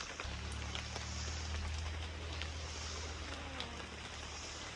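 Rain falls in a forest as a constant soft patter of drops on foliage, with a low engine drone underneath and no talking.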